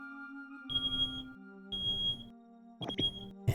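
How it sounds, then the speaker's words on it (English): Household smoke detector going off, sounding repeated high piercing beeps in short bursts, moderately loud against a background hum with some noisy interruptions. "And there's the smoke detector."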